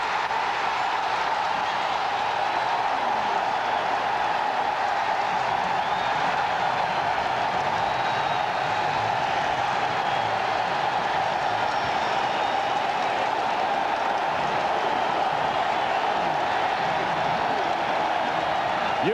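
A roaring stadium crowd cheers continuously after an overtime touchdown in a 1993 NFL game between the Miami Dolphins and New England Patriots, a dense sustained wall of noise with faint commentary voices underneath.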